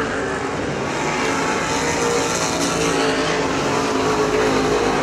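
Super Stock race cars roaring around the Perris Auto Speedway oval during a main event, a loud, dense, continuous engine drone from several cars passing together.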